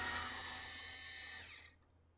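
A power driver whirs briefly, taking out the screws on the top lid of a DIY 12V Ryobi battery charger. The close, high buzz runs steadily for about a second and a half, then cuts off and leaves near silence.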